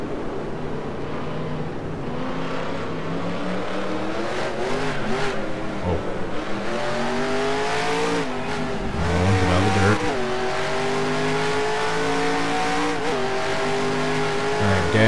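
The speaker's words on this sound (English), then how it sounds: "Shift down to neutral and try revving then." Race car engine in an NR20 sim racing game, recreating a Mid-Ohio crash scene, revving steadily in neutral with rising and falling pitch, a continuous close-up drone over fifteen seconds with brief surges.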